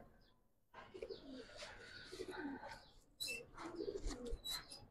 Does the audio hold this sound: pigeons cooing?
yes